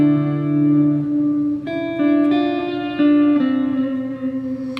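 Guitar played through an ambient reverb pedal set to a subtle level, sustained chords ringing with a soft wash of reverb behind them, new strums entering around every second and a half.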